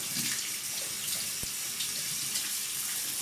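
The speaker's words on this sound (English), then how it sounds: "let's give the brush a quick rinse" A shaving brush is rinsed under a running tap, with water splashing steadily into a sink, close and continuous, plus one sharp knock partway through.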